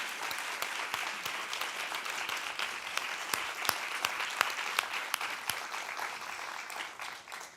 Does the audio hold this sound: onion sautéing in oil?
no